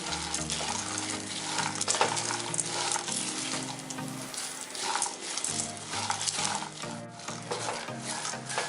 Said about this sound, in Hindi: इन सभी को भी स्लो फ्लेम पर सेकेंगे।